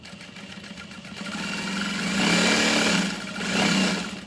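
Sewing machine stitching through a bag strap, a steady mechanical hum that swells twice as the motor speeds up, heard alone without talk.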